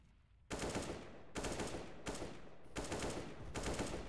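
SMG fire in Counter-Strike: Global Offensive during a professional tournament match comes as loud, dense automatic bursts, several long volleys in quick succession with brief gaps.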